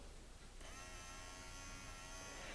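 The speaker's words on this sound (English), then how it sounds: "the motor is working" A small electric motor in a corroded TrackMaster 2 glow-in-the-dark Thomas toy train whirs steadily with a high, buzzy hum, close and continuous after starting abruptly about half a second in.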